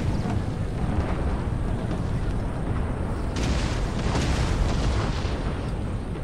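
Sustained roar of massed musket volleys and artillery fire on an Empire: Total War battlefield, a continuous loud rumbling wash of overlapping shots with a fresh surge midway through.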